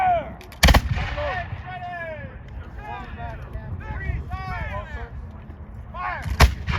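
A historical artillery cannon fires during a battle demonstration, with one sharp, loud blast early and another near the end, while a commander shouts orders in between over outdoor crowd noise.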